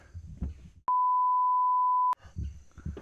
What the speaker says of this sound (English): I'll bleep it out.